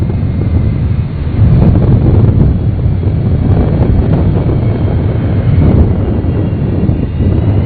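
NASA Shuttle Carrier Aircraft 905 lands on the runway at Kennedy Space Center, heard as a loud, steady, rumbling jet roar mixed with heavy wind noise on the microphone.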